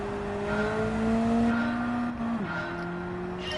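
A race car in Gran Turismo 7 drives with a steady, droning engine whose pitch climbs slowly, then drops sharply at a gear change and holds steady again, continuous and alone with no talk.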